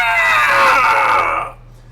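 A voice imitates a bird screeching, a loud, shrill, sustained cry lasting over a second before it cuts off abruptly, with no other sound alongside.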